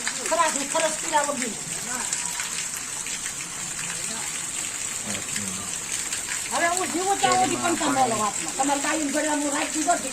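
Steady rain falling continuously, a broad hiss of water throughout, with a person talking over it in two stretches.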